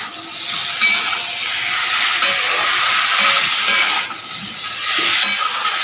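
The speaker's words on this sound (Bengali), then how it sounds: "আর এবার দিয়ে দিই আলু পটল সয়াবিন সব একসাথে দিয়ে কষাই।" Potatoes, pointed gourd and soy chunks sizzle loudly in a hot pan, a close, dense frying hiss that swells and dips with occasional clinks of a utensil.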